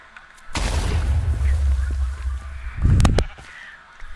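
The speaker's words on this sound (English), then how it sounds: "Nitro 9 is basically an explosion, a bomb." Nitro 9 bombs exploding in the Minecraft Dalek Mod, two loud, booming blasts with deep rumbling bodies, the first long and rolling and the second shorter and sharper near the end, with no talking.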